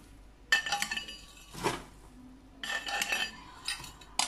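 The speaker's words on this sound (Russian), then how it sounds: "я беру 4 столовые ложки сушеной чаги" A metal tablespoon clinks sharply against a container while dried chaga is measured out, several bright separate taps and scrapes in a quiet room.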